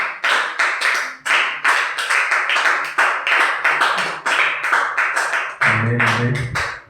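A church congregation claps in a fast, steady rhythm, loud and close, acclaiming the Lord, then a voice joins briefly near the end.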